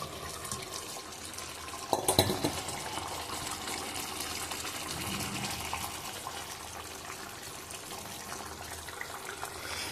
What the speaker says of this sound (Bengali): দেখুন ঝোল ফুটে উঠেছে